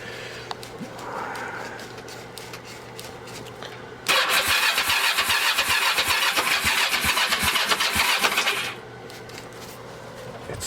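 An abandoned Kawasaki Ninja 500 motorcycle engine on its first start attempt: a quieter stretch, then a loud burst of cranking and firing that carries on for about five seconds before dropping back to a lower level.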